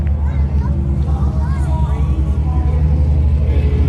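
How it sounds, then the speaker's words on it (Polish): A motorbike playing music rides past during a total solar eclipse, its low engine rumble steady and close with faint tonal music threaded above, and voices murmuring alongside. "na motorku ktoś sobie jechał nas przez zaćmienie z muzą"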